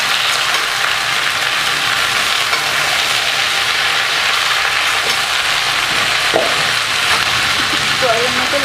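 Chopped onions and pui greens fry in hot oil, giving a loud, dense, unbroken sizzle close at hand, with an occasional faint utensil tap.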